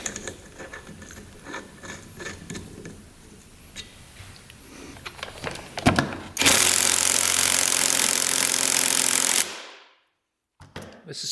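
Wrench driving a big bolt to lock the flywheel on a 100HP hovercraft engine: scattered metallic clicks and ratcheting, then a dense loud burst of grinding tool noise for about three seconds that cuts off into silence before a few final knocks.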